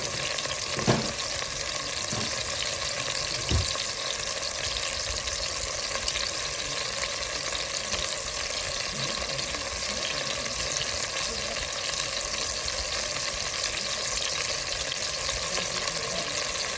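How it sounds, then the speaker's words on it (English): Stew beef sears in a Dutch oven with a steady, dense sizzle that holds for the whole stretch. A few light clinks and taps of utensils rise briefly over it near the start. "So once it sears on both sides, we're going to take it out of the pan, but out of the Dutch oven."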